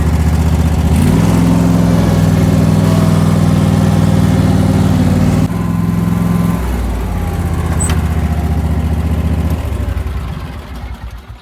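A lawn mower engine runs steadily after a cold start, a loud close-up mid-pitched idle that dips slightly partway through and keeps churning without speech.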